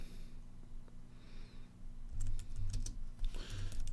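Keys tapped on a computer keyboard while text is entered, a quick irregular run of light clicks over a steady low hum, getting busier in the second half.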